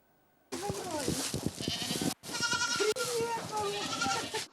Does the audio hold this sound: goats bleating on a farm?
yes